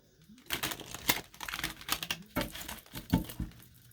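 Cards riffle and slap together in quick, uneven bursts of crisp clicking and fluttering, close by and fairly quiet.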